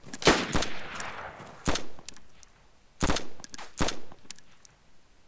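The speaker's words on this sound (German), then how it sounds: "Auf uns wird geschossen." Gunshots aimed at players in the survival game DayZ ring out in loud, sharp bursts: several cracks early on, another single shot near the middle, then a tight cluster of three or four reports, with no talking.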